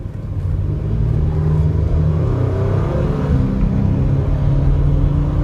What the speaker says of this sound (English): I got a stoplight where I can speed up real fast here.